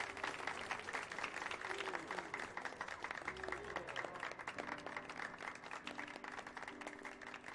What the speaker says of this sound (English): And everybody applaud.